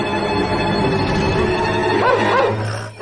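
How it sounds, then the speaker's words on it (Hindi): A village dog barks and yips in a few quick, close bursts over steady background noise, ending in a short whimper-like yelp. "इतना क्यों भौंक रहे हो? लगता है पूरे गांव को जगा दोगे।"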